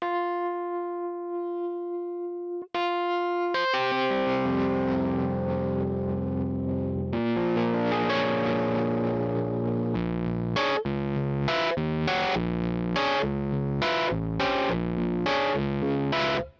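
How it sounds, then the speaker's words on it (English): Rhodes electric piano chords from a Yamaha YC88 stage keyboard played through a gritty, overdriven crunch tone, starting with a sustained held chord, then a dense passage and a run of punchy repeated chord stabs. "Let's do a crunch, turn up some of the drive, a little tone there, put it on key A, which is a Rhodes"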